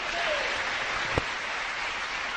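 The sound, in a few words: applause in church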